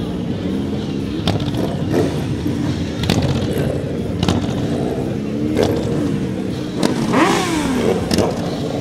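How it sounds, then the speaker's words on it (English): Motorcycles rev and rumble past in a Christmas parade, engine roar rising and falling over steady crowd noise with a few sharp clatters and voices in the background. "And some beautiful motorcycles, I may say."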